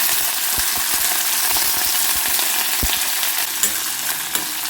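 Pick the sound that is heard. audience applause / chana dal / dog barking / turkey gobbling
chana dal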